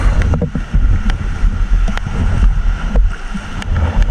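Strong wind and big waves at sea in the rain before dawn, heavy, close buffeting rumble and wind noise across the microphone, with occasional sharper splashes and no talk.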